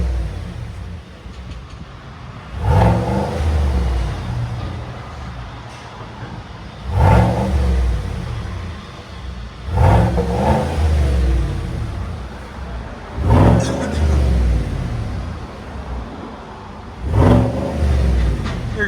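Stock exhaust on a 2020 Chevy Silverado with the 6.2L V8, blipped in five loud, close revs spaced a few seconds apart, each swelling quickly and falling back to a steady idle rumble, with no talking.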